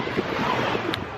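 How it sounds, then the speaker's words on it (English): Strong wind roars across the microphone on Hellshire Beach in Jamaica, a dense, loud, unbroken rush blended with surf wash, with no one talking. "It's a little bit windy. Not a little, it's actually windy, as you can see."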